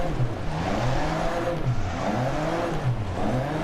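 Car engine in DiRT Rally 2.0, a front-wheel-drive rally car, revving in rising and falling surges as the throttle is pressed and released, close and loud with no talk.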